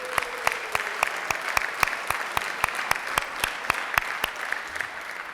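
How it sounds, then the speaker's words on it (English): Applause from a Rotary meeting audience, a modest room of people clapping with a few sharp, regular nearby claps standing out over the softer patter throughout. "I think we all owe Christy and Sarah an extra big round of applause."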